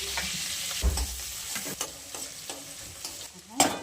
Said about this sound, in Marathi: अद्रक लसूण नाही का हे कुटून घेतलेलं आपण ह्याच्यात टाकूयात. त्याला ते चांगलं परतून घेऊयात आपण.